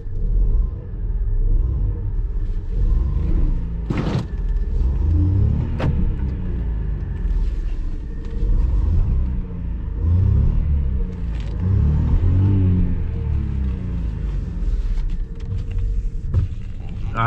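A car stuck in mud revs its engine over and over. The loud, rumbling surges rise and fall about every two seconds and hold a steady droning base under them.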